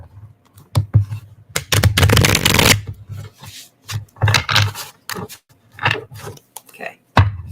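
A deck of slightly bent playing cards is shuffled by hand, close up, in repeated rapid riffling bursts with short pauses and cards tapped between them.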